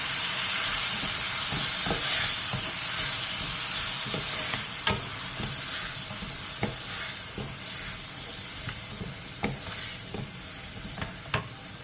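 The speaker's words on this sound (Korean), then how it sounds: "그 다음 양념장을 넣고 골고루 섞일 정도로만 가볍게 볶아주세요." Seasoning sauce stir-fries in a hot pan with a constant soft sizzle, broken by scattered scraping clicks of a spatula as it is lightly mixed.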